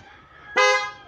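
A single short horn honk from a Toyota Vios sounds abruptly after quiet, bright and loud, fading out over about half a second.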